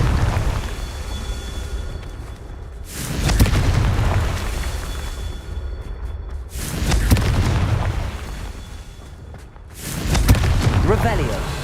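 Confringo spell blasts in Hogwarts Legacy land as three loud, deep booming explosions spaced a few seconds apart, each rolling off into a rumbling tail.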